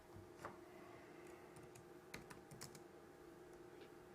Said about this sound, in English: Now he's typing.